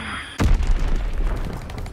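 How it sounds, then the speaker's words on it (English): An Azon bomb explodes in the video game Call of Duty WWII, a sudden loud close boom after brief quiet, followed by a rumbling, crackling decay. "Azon bomb mission underway."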